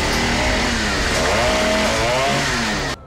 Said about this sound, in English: The climax of this movie has this little man chasing Van Damme around with a chainsaw in a meat factory.